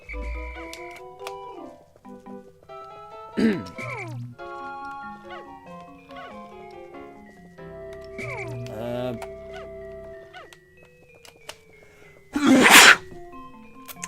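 A single sharp sneeze bursts out loudly near the end, over a busy bed of electronic game music and beeps from the Pikmin game.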